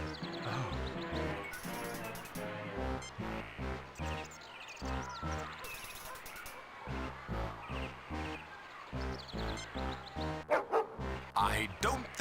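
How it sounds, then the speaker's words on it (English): Rhythmic barking and yipping of a rabid dog in the Star Trek Judgement Rites video game, a repeating pattern of short barks with game music and a voice speaking intermittently. "I would not get near that dog if I were you, Jim."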